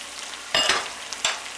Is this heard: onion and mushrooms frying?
yes